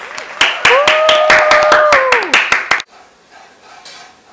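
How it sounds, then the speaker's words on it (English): A class applauding a guest introduced as Gary Powers, a run of loud individual claps close by with a voice talking over them, stopping abruptly into quiet room sound. "Everyone give a round of applause for Gary Powers."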